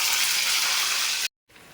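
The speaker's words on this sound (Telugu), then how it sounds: "కానీ ఇలా వేసుకొని ఒక్కొక్కటిగా అన్నీ ఇలా ఆయిల్లో వేసేసుకుందాం" Garelu, lentil fritters, fry in hot oil with a loud, steady hiss and sizzle that cuts off abruptly, then returns more faintly.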